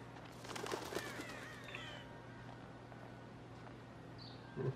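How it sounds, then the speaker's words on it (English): Birds calling outside an open window, a crow-like caw and scattered chirps, faint and distant against a steady low hum. "Birds talkative today."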